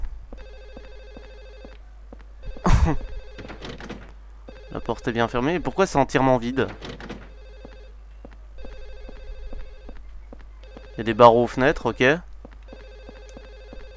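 Old-style telephone bell ringing in a room in the horror video game Silent Hill 4, repeating in regular bursts throughout while someone talks and laughs over it in a few spots.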